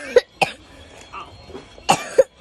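Several short, sharp coughs in two pairs, with a quiet pause between them, fairly close and with no talking.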